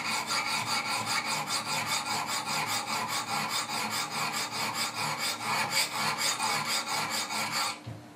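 Wicked Edge sharpener stones honing the bevel of a Benchmade 940 knife, a close, rhythmic rasping scrape repeating in quick even strokes for several seconds before stopping.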